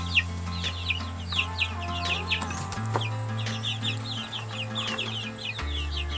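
Many Betong chickens, two months old, cluck softly and continuously on a farm in a chorus of short repeated calls, over a steady low mechanical hum that shifts pitch partway through.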